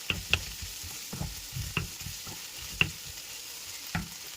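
Squid masala frying in a pan being stirred after salt goes in, with a steady low sizzle and several sharp spoon scrapes and clanks spaced irregularly, close and alone.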